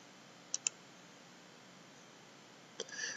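Faint mouse clicks on a computer in a quiet room: a quick double click early on, then another single click followed by a soft rustle.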